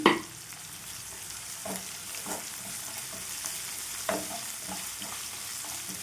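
Ginger garlic paste fries in a pan for a bitter gourd curry, giving a steady, close sizzle with occasional soft stirring scrapes.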